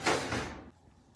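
A stove's broiler drawer slides open or shut with a short, fairly close scraping rush that fades within about half a second, followed by quiet and a tiny click at the end.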